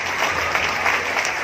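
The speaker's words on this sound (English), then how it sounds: "it's time to applaud, ladies and gentlemen, all the other contestants" An audience at the Mrs Sri Lanka World 2018 pageant claps for the contestants: a steady, dense wash of applause filling the whole stretch, loud and even with no breaks.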